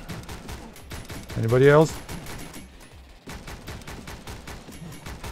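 Video game gunfire crackles as a steady stream of rapid, evenly spaced shots at moderate loudness, with a man's brief question partway through.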